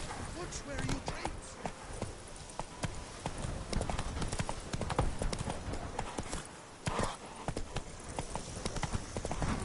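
Roach, a horse in The Witcher 3, trots steadily with rhythmic, fairly close clip-clop hoofbeats lasting throughout, layered over background game ambience.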